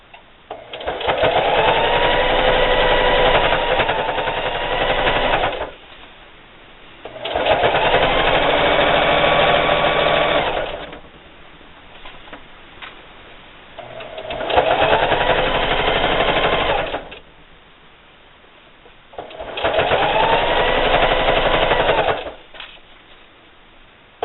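Four bursts of fast sewing-machine stitching as a seam runs across a spring table topper, each run lasting several seconds and separated by short quiet pauses.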